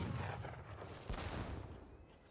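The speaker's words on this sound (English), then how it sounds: "These heavy cannons everywhere," Heavy cannons fire in a strategy video game battle, a distant boom followed by a sharper, louder blast a second later, each fading into a rumbling tail under the game's ambient noise.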